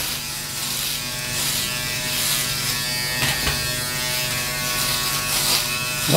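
Philips BodyGroom 1100 electric body trimmer buzzing steadily up close as it trims hair, with small shifts in pitch and loudness as it moves over the skin.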